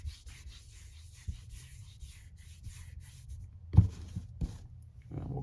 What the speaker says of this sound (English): Make just a couple more deburr passes here